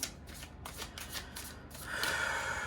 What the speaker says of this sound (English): So let's have a little shuffle of the tarot.